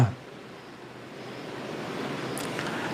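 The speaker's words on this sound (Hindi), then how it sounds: "बारिश हो रही है" Steady rain falls in a dense, continuous wash of noise outdoors, loud and even throughout with no talk over it.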